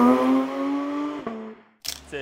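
A Porsche GT3's 4-litre flat-six, which revs to 9000 rpm, gives a loud, close howl that falls in pitch as it comes off the revs, followed by a sharp click and a short burst of noise.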